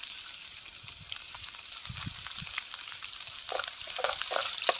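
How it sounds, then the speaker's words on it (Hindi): Chopped onion frying in a pan for a village-style masala vegetable dish, a steady close sizzle with scattered crackles and occasional scraping stirs, no voices. "इस प्याज को थोड़ा सा भून लेंगे ब्राउन होने तक।"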